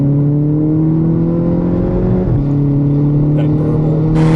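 A 2011 MK6 Golf GTI running at a steady low engine drone heard from inside the car, with a brief dip in pitch midway and someone talking over it.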